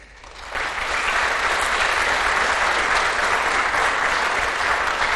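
Sustained audience applause following a speech by the Dutch Minister of Foreign Affairs at an OSCE gathering, starting quietly then swelling within half a second into steady, dense clapping from a large hall crowd that continues without letup.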